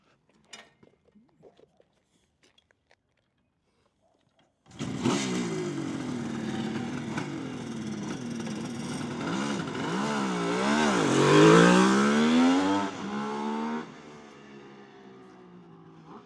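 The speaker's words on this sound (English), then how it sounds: "These bikes sound great, unique sound with the 3-cylinder, air-cooled." A 1972 Kawasaki H2 750 Mach IV, an air-cooled three-cylinder two-stroke, barks into life after a few faint clicks, then idles raspily and revs up in rising, wavering blips before settling back to idle.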